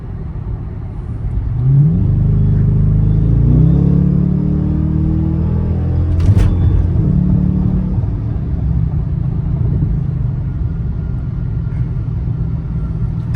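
A Dodge Charger R/T on the road, its engine rumbling low and then pulling hard as it accelerates, with a steady deep drone under rising gear tones and a brief sharper burst midway.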